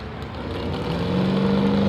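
A truck and tractor pull engine opened up to full throttle, a loud rising roar that builds steadily into a strong sustained drone, with no talking.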